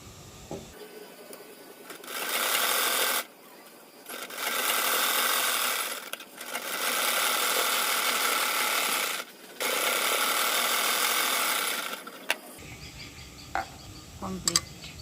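A sewing machine runs in several long bursts while stitching a blouse, with short pauses between runs and faint handling noises at the end; no talking.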